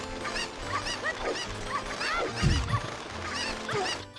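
Cuccos from Zelda: Ocarina of Time swarm in attack, a dense run of squawking, honking bird cries overlapping under game music, with a heavier burst of thuds midway.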